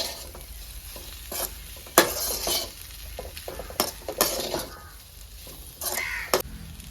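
A spatula scrapes and knocks repeatedly through potato and egg fried rice in a pan, irregular stirring strokes over a constant low sizzle, close and fairly clear.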